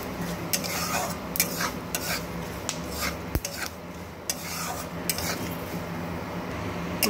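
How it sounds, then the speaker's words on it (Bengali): Poppy seeds and white sesame toasting in a little oil in a pan, heard as rhythmic scraping strokes of a spatula with a soft sizzle beneath and one sharp metallic knock midway. "হাফ চামচ পোস্ত, 1 চামচ সাদা তিল, এটাকে একটু শুকনো অবস্থায় তেলের মধ্যে একটু ভেজে নেব।"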